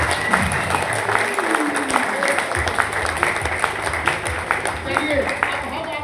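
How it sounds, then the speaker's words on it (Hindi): An audience at the Manali Ozone Leaders Summit claps together, a dense, continuous patter of many hands, while a voice talks over it. "एक बार आप लोग अपने मन से बजा लीजिए जैसे बजाते हैं।"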